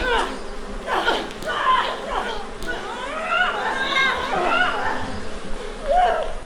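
Swarm of bees hums and buzzes in overlapping, wavering drones, fairly close and steady, with a faint chatter of other sounds mixed in.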